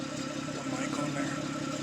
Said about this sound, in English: That's an idle